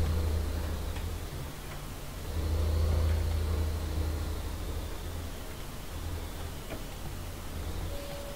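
A tractor engine in a farming simulator hums low and steady while backing up, with a constant ticking on top and a slight swell in revs partway through.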